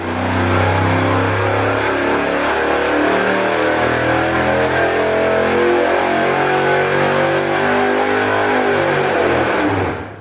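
A rebuilt 700-horsepower engine in a 1974 Chevy Laguna Gambler, just repaired after blown head gaskets, roars loudly and continuously at high revs, close by, before cutting off at the end.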